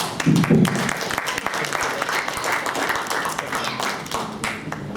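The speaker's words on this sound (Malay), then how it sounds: "Berikan tepukan kepada mereka sekali." Audience applause at a youth assembly in Selangor, a dense, steady round of clapping that carries on through the whole stretch, with a brief voice near the start.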